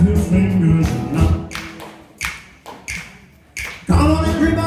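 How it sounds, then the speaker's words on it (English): A few sharp finger snaps land as spaced single cracks during a song, set between sung, musical passages. "Come on, everybody, and snap your fingers now"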